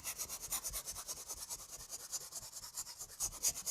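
A brush scrubs and mushes oil paint into canvas in quick repeated strokes, a soft rhythmic scratchy rubbing heard up close and fairly quiet, with no talk.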